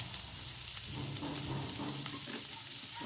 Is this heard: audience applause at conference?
no